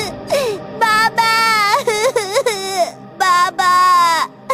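A voice imitates a child crying out 'baba' in a horror story, giving a series of loud, wailing, sobbing calls with short gaps between them, close and alone.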